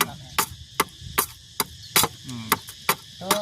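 Hammer blows driving nails into wood, a steady series of about a dozen sharp, loud strikes spaced roughly a third of a second apart, with faint background chatter between them.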